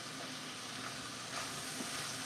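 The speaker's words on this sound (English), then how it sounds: "So We're gonna add in our zucchini. We'll let that start to saute up." Zucchini sautéing with sausage in a pan, a soft continuous sizzle and hiss with faint crackles, steady and fairly quiet with no talking.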